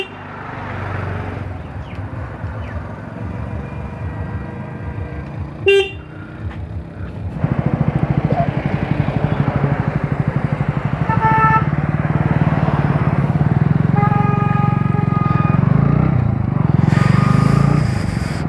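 Motorcycle switched on and started, engine idling and then running with a rough rumble, sharp horn toots and short electronic beeps breaking in, a brief clunk partway through, and the engine growing louder toward the end.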